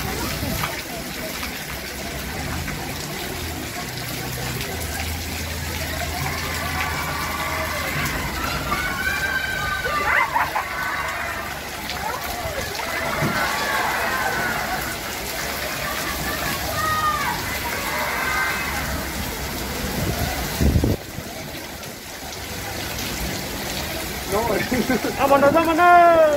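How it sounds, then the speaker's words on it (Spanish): Rain pours outdoors during a street procession carrying a saint's image, a steady wash of water sound throughout with voices and crowd noise mixed in and a few louder bursts near the end. "Como pueden ver, ahí está lloviendo."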